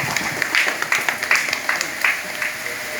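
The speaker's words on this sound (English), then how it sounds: "Round of applause." An audience gives a short round of applause, with scattered claps of uneven rhythm at moderate volume.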